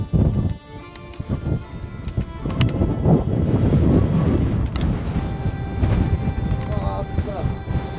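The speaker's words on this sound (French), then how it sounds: "le vent dans la gueule" Strong wind buffeting the microphone on a volcano in Ecuador, a loud, rumbling low roar that gusts and swells continuously with no clear breaks.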